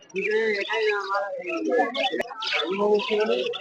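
Budgerigars chirping and warbling at a bird market, bright twittering calls close by, overlapping with people talking in the crowd.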